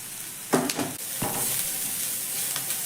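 Vegetables fry in a pan for a healthy tiffin dish, giving a steady, close hiss of sizzling, with a few sharp scrapes and clatters of stirring near the start.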